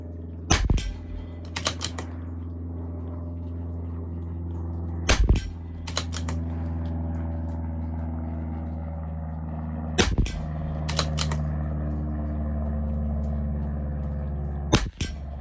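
Sharp cracks of a CZ457 LRP rimfire rifle firing RWS Rifle Match ammunition at 50 yards, several single shots spaced by pauses of a few seconds, some followed quickly by a second crack or bolt clack, close and loud with no talking.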